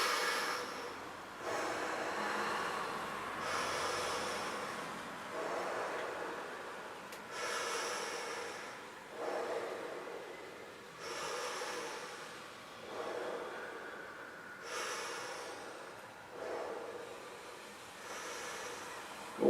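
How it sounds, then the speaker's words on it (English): Slow, deep pranayama belly breathing, long rushing inhales and exhales repeating in a steady cycle of about two to three seconds, close and fairly loud with no talk. "Let's start breathing deeper into our bellies. Deep inhales."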